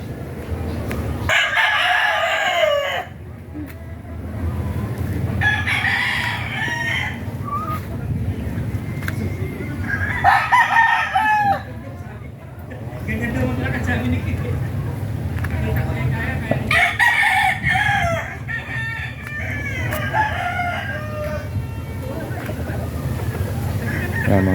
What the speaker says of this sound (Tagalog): Yan, mga inahin po namin.